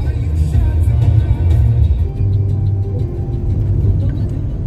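A car cruises at about 100 to 120 km/h along the open NH66 highway, with a loud, steady low road rumble and engine drone heard from inside.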